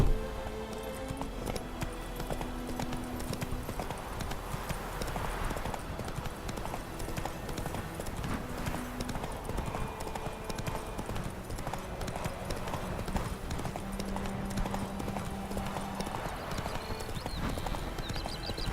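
Roach the horse gallops along a road in The Witcher 3, a fast continuous clip-clop of hooves with rhythmic thudding, steady and moderately close over faint background ambience and brief soft tones.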